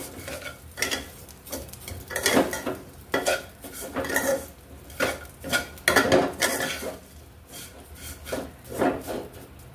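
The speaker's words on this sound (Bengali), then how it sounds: "আমি চুলার গরমেই কিন্তু সেমাইটা ভালো করে ঘির সাথে মিশিয়ে নিচ্ছি, হালকা করে ভেজে নিচ্ছি" Vermicelli is stirred and lightly fried in ghee in a pan over residual heat from a switched-off stove, with steady rhythmic scraping and clinking of the utensil against the pan and no talk.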